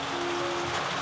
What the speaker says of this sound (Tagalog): Naku, ang ulan!